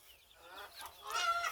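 White Cornish cross meat chickens cluck softly at close range, a few low, rough calls building and growing louder toward the end.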